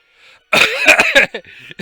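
A character in the video game The Legend of Heroes: Trails of Cold Steel II coughs in a short burst, two or three rough hacks close up, followed by a faint sniffle.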